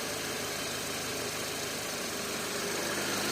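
A 2013 Audi A5 engine with a starting fault runs at idle, producing a steady, dense mechanical hum and fine rattling vibration, close and continuous without change.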